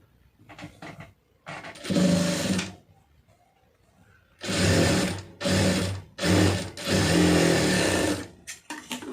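A sewing machine stitches the neckline of a blouse in several bursts of steady whirring run, some short and some sustained, separated by brief pauses, close and clear.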